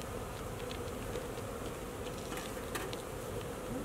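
A package of honeybees being installed in a hive, a dense steady buzz of many bees droning together, close and continuous, with a few louder individual passes over the hum and no voices.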